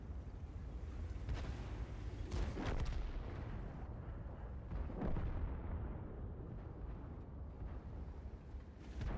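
Several heavy Tiger II tank cannon blasts in a video game boom out at irregular intervals, each followed by a rumbling decay, over a constant low engine drone.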